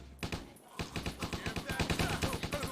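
Rapid automatic gunfire in the Stubbs the Zombie video game, a fast train of sharp repeated shots hammering on for a few seconds at close range with a shout over the start.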